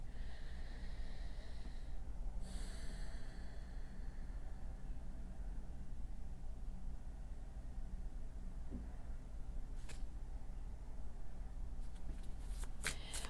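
A deck of cards is shuffled quietly, with soft riffling bursts near the start and a quick run of flicks toward the end, over faint hiss.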